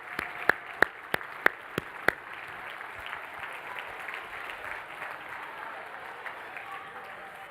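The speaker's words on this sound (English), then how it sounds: "let's give them all a big ASCP round of applause" Audience applause for students standing at an ASCP pathology informatics plenary session, a short round of clapping with several sharp individual claps at the start, moderately loud in a large hall.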